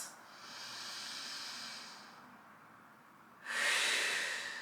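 A long, airy exhale followed by a sharp, loud inhale through the nose, close to the mic, during a slow back and hip stretching routine; no speech.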